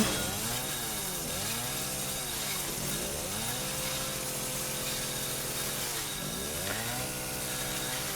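A chainsaw in the horror game Resident Evil 7 revs up and down in repeated rising and falling surges over a constant engine drone, loud and continuous, with no talking.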